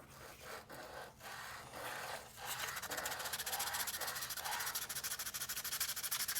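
Steady, close scraping of a bevel being sanded or filed onto small plastic model kit parts. It starts as uneven strokes and settles into a fast, continuous rasping rhythm.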